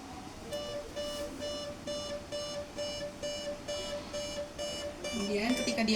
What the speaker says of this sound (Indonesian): ketika dia terdeteksi sebagai drowsy, akan muncul sebuah alarm.